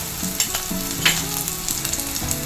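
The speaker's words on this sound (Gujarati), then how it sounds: "આપણું તેલ ગરમ થઈ ગયું છે. આપણે એમાં થોડુંક લસણ નાખી દઈશું." Garlic and hot chillies fry in hot oil with a steady, close crackling sizzle, broken by a few sharper pops and stirring scrapes, over a faint low tonal backdrop.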